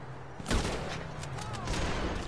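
A loud rifle shot cracks out near the start in the video game GTA, followed by a few fainter distant shots and a low game soundtrack, with a voice briefly talking over it.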